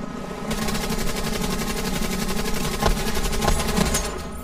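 Rapid automatic weapon fire in a futuristic shooter game, a continuous loud stream of rattling shots with a few sharper bursts near the end, no talking over it.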